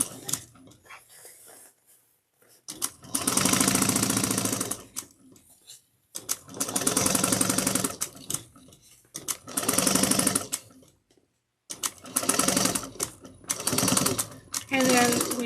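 A sewing machine stitches a tote bag seam in several bursts of rapid, buzzing whir separated by short pauses, close and fairly loud, with quiet handling between runs.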